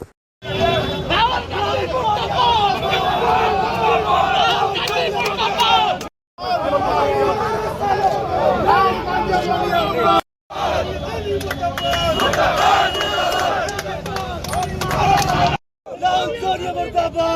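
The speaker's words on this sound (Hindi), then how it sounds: "प्रदर्शन के दौरान जमकर नारेबाजी की गई" BJP youth wing protesters in Agra chant slogans in loud unison outside a Congress office, a dense crowd roar filling the street in sustained bursts with brief pauses between.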